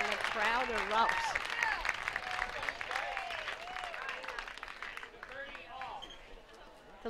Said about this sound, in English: Timely net court and the crowd erupts.